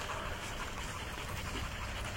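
A dog being trained for aggression toward other dogs pants rapidly and continuously close by, its quick breaths rasping over a dense, noisy background.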